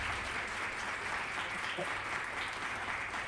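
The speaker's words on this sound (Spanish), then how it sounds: "Sí, podemos aplaudir también." An audience applauds at a university event on comprehensive sexual education in Buenos Aires Province, a soft, distant, continuous patter of clapping filling the room.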